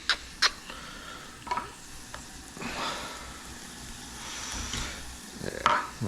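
Pan being deglazed on the stove for a quick pho-style soup, a soft steady sizzle with a few sharp utensil clinks and scrapes of stirring, fairly close.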